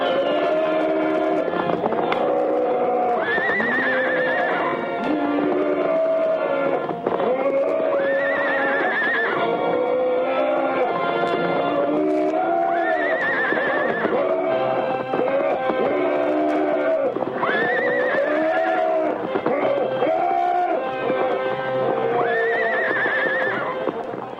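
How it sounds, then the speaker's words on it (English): Horses in a radio drama effect scream and whinny in rage as they fight, with repeated shrill neighs rising over a constant churn of pounding hooves, loud and close throughout. "The air was filled with bellows and whinnies of rage and defiance."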